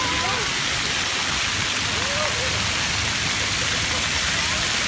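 A Boston water fountain sprays steadily, producing a dense, even hiss of falling water that fills the scene, with faint voices in the background.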